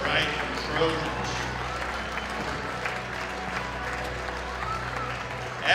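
High school boys basketball crowd at a Triton Trojans home game against Winamac, cheering and applauding loudly in a gym, a sustained roar of claps and shouts with an announcer's voice and sneaker squeaks mixed in.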